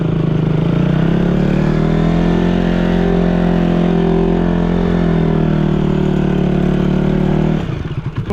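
KTM motorcycle engine droning steadily while riding through sand, loud and close with a constant mid-pitched hum that drops away at the very end.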